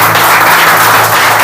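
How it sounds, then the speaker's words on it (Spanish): A church congregation applauds during an evangelical sermon, a short, loud burst of dense clapping heard close and continuous. "Denle un aplauso al Señor para que se me despierte."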